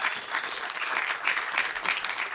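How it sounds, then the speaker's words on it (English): Dense applause from a comedy show audience, continuous and moderately loud throughout. "I'm gonna need a massive round of applause for Safwaan."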